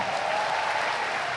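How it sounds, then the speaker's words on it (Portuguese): An audience at a women's church congress applauds in a dense, steady wash of clapping that fills the whole brief moment without a break. "Se você está feliz, dá um forte aplauso ao Senhor."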